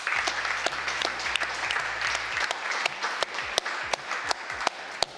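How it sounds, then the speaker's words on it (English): A crowd at a digital marketing agency awards ceremony applauds steadily, the dense clapping sustained throughout with a few sharper individual claps standing out. "Give them a round of applause."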